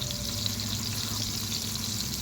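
Onion and garlic frying in hot oil, giving a steady, close hiss with broadband crackle that holds evenly throughout, with no voices.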